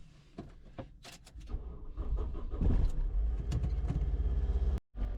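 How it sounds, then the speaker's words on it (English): A car engine cranks and catches after a few clicks and a door sound, then settles into a steady, fairly close idle rumble that cuts off briefly near the end. "the car seemed to have started okay"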